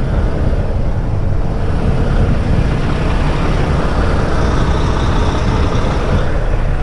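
A heavy haul truck drives onto its trailer over boards with a loud, steady, rumbling engine drone that fills the whole stretch without letting up.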